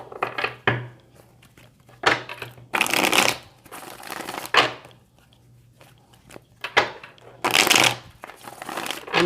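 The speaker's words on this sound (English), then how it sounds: "I'm going to shuffle this a little more because I want to clarify any of the Wisdom Oracle" Oracle cards being shuffled by hand for a tarot reading, repeated crisp riffling bursts with short pauses between them, close and fairly loud, no talking.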